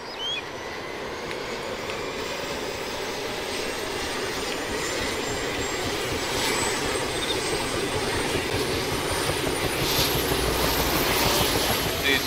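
An armed helicopter in DayZ Overpoch drones with a steady rotor and engine roar, a loud continuous whine that grows slightly stronger over a dozen seconds.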